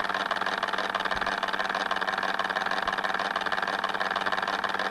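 Steady electric motor drone from a homemade mechanical television set, running continuously with a constant hum and broadband whir, fairly close and unchanging throughout with no talk.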